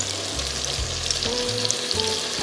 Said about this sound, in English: We're just going to shallow fry these.